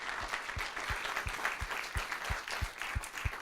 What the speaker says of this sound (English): How about just kind of a warm welcome, applause for the Presidential Debate Lecture Series?